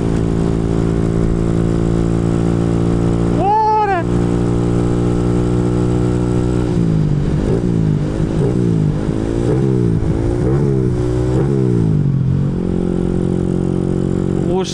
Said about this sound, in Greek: Αυτά τα μονοκύλινδρα, τι ωραίο ήχο έχουν, ρε φίλε.